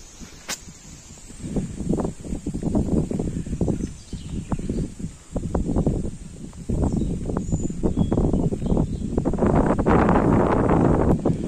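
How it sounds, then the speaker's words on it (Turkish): Gusty spring wind buffets the microphone in a Black Sea village near Sinop, Turkey, in uneven rumbling bursts that swell and fade, with a thin high steady tone running throughout and no voices. "Rüzgar esiyor, rüzgar."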